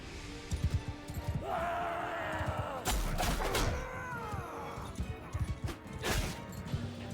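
A horse gallops in Mount & Blade 2: Bannerlord with rapid thudding hoofbeats amid battle noise of crashes and impacts, a horse whinnies, and someone talks over it.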